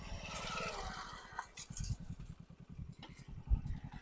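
A motorcycle engine rumbles close by with a steady, throbbing low pulse for the whole stretch, arriving at a rural farm spot where an injured animal lies, with faint background noise.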